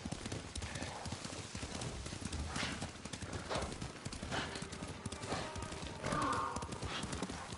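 Rhythmic clip-clop of horse hooves in the video game Ghost of Tsushima over a steady outdoor backdrop, with a brief whinny near the end; steady pace, moderately close.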